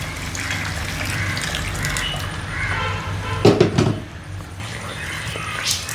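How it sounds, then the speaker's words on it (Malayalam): Hot water is poured into gravy in a pan, a steady liquid pour with a louder splashing gush midway and faint background noise. "ഗ്രേവിക്ക് എന്തോരം വെള്ളം വേണ്ടതെന്ന് വെച്ചാൽ അതനുസരിച്ച് ഒഴിക്കാം."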